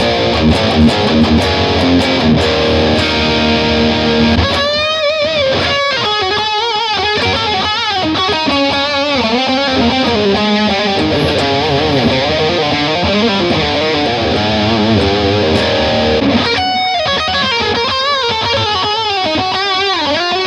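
Jackson Dinky electric guitar fitted with a Super Distortion pickup, played loud and heavily distorted, starting with sustained chords and moving into fast riffing and lead lines with bends, alone without talk.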